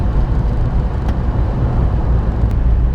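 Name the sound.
road noise inside a 1998 Daihatsu Sirion driving on a wet road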